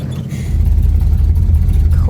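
A Chevrolet Bel Air engine runs steadily close by, a deep, constant low rumble that holds even for about two seconds with no clear revving.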